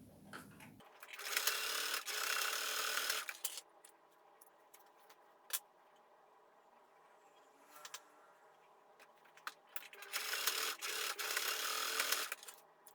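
A sewing machine stitches straight across the aligned center seams of a tote bag lining in two steady bursts separated by a quiet stretch of faint handling noise.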